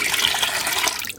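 Water rushing and swirling as lentils (dal) for sambar are rinsed in a kitchen, a loud continuous splashing wash that cuts off abruptly near the end, no speech.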